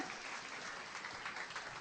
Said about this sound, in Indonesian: Yang setuju berikan tepuk tangan yang meriah buat Tuhan.